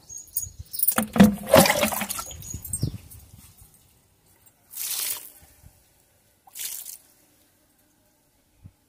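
Water splashes and gurgles in a burst as half a mug is poured onto a potted plant, followed by two shorter pours after pauses, close and clear with no talk.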